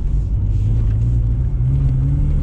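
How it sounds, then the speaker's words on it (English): A car's engine revs and drones steadily at close range on grass while drifting, a continuous low rumble with the pitch climbing slightly; no distinct skid squeal stands out. "let's get one good skid in before we run out of daylight"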